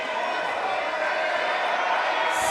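A crowd at a youth women's bouldering final in Sukoro cheers loudly for a Ukrainian climber, a dense continuous roar filling the short stretch without a break.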